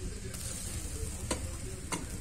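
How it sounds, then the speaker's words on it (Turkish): Tea boiling in a kettle on a wood-burning stove gives a steady close hiss and bubbling, broken by a few sharp ticks, with no talking. "Çayımız da kaynıyor arkadaşlar zubamızın üzerinde."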